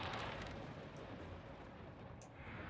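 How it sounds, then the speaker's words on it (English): A small, underwhelming explosion in the steampunk hidden-object game Clockwork Tales, a soft broadband rush that fills the whole clip at a steady level, with faint brief chimes on top. "that wasn't much of an explosion."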